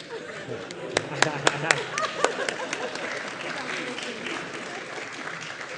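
An audience at an academic awards ceremony breaks into applause for the award winner, with a few sharp claps standing out early before settling into steady clapping from a room-sized crowd.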